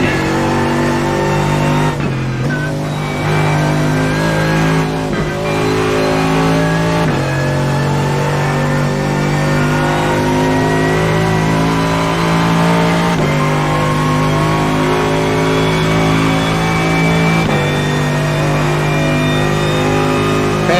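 Mercedes-AMG GT3 engine in a sim racing game on the Nürburgring, revving loud and steady with sustained harmonic drone, pitch shifting at gear changes every few seconds, no talking.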